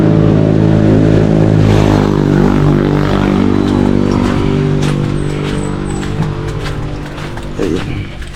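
A motorcycle engine revs loudly with steady low harmonic drone and rising pitch, close by, with faint voices in the background at a Filipino household.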